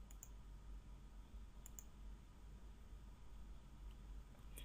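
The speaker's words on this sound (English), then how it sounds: "I click here." A computer mouse clicked a few times, each click a faint, sharp tick spaced seconds apart over very quiet background hiss.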